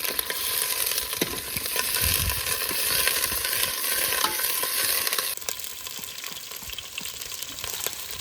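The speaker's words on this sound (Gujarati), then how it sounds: "હવે નાખવાનું છે તેલ ડુંગળી પણ આવી ગઈ છે" Onions fry in oil and are stirred in a pan, a loud, steady, close sizzle with scraping stir sounds running throughout.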